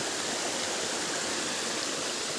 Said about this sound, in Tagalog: Ang ganda yung pagbagsak ng tubig niya doon.